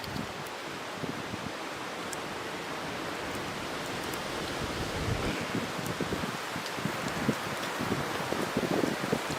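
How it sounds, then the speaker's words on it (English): Wind buffets a microphone outdoors at a canoe campsite, a constant loud rumbling rush with low thumps and gusty swells and no break in the noise. "this wind is driving me nuts. I don't even know what it's doing to the mic"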